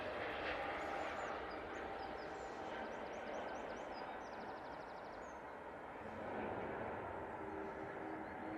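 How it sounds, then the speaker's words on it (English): Aer Lingus airliner landing at Manchester Airport: a steady, faint, distant jet engine roar and rumble with broad rushing noise that swells slightly, with no talking. "beautiful landing there from the Aer Lingus"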